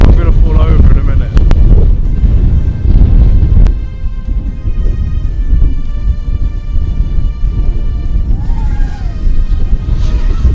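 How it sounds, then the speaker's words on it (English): Strong wind buffets the microphone outdoors in extreme gusts while an FPV drone flies, heavy low rumbling bursts and thumps dominating, with a person talking and exclaiming over the noise. "Too bad considering how much wind there is. Really fighting the wind."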